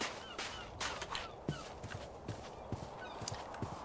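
Hooves clop steadily in an even rhythm over a soft ambient bed, with faint bird-like calls scattered in the background, from a horse in the Minecraft TerraFirmaCraft modpack Poetica.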